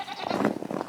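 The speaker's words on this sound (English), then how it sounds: "They're screaming because they want their morning hemlock." Several farm goats bleat and scream on a winter homestead, a brief, loud burst of overlapping wavering cries at close range.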